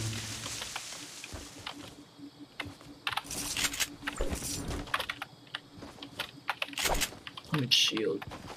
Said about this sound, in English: I have a CyberPower PC keyboard.